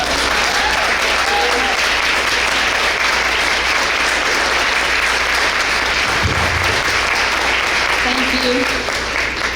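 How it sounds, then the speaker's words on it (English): A large breakfast crowd at a school district event applauds school principals and assistant principals, a dense, sustained roar of clapping throughout, with a voice briefly speaking over it. "would you please stand and let's give them a round of applause"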